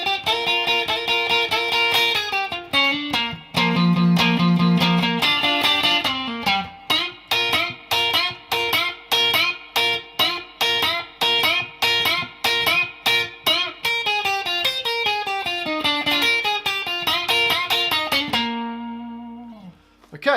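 An electric guitar with distortion plays a song intro: bright, driven single-note runs and repeated double-stop bends in a fast, steady rhythm, loud and close, ending in a ringing chord that fades out.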